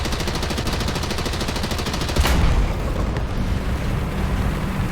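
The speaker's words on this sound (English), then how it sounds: "This artillery that you guys are launching is actually going to land on us." Artillery explosions and gunfire in a Ju 87 G combat simulation game, a dense continuous roar of rapid bursts with one heavier boom standing out midway, loud and close.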